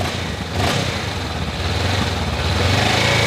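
A 2020 Honda CB500X motorcycle with its stock exhaust revs close by, the loud engine note rising quickly and dropping back, then building again toward the end, with no voices.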